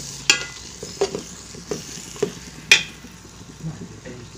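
Tomatoes fry in a pan for a Kerala chicken roast while a spatula stirs them, sending sharp intermittent clinks and scrapes over a soft, low sizzle.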